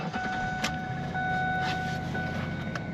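A 2006 Ford Ranger pickup truck drives along, heard from inside the cab as a steady, even rumble of engine and road noise with faint clicks and rattles, no talking.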